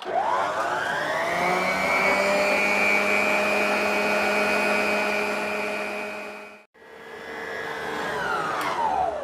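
Electric mixer whipping eggs with powdered sugar into a thick foam for a chocolate cake, a steady loud whirring drone that stops briefly, then restarts and winds down.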